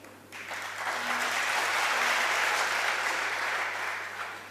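An audience breaks into sustained applause, rising quickly to a dense, even clatter of clapping that holds for several seconds before easing off slightly. No speech is heard over it.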